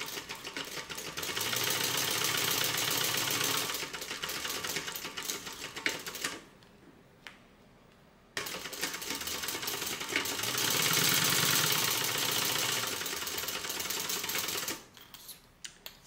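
Sewing machine running stitch rows along an edge guide for handles on a tote bag, two long steady bursts of rapid mechanical chatter separated by a brief quiet pause, close and clear.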